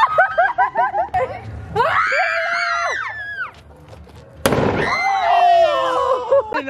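A 'dinamita mil' firecracker bursts with a single sharp, loud bang outdoors on Christmas, amid excited shouts and screams from people nearby before and after the blast.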